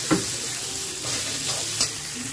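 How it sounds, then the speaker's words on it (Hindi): Ground spices and red chilli powder sizzle steadily in a hot pan, with a few scraping stirs of a spoon breaking the constant frying hiss. "अच्छे से हम भून लेंगे मसालों को"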